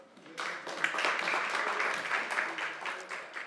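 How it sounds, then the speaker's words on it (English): Applause rises quickly from a conference audience and continues as a soft, even wash of clapping, somewhat distant and fairly quiet. "Please give him a warm applause."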